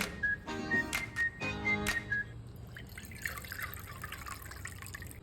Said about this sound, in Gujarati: બે વાટકી જેટલું પાણી ઉમેરીશું.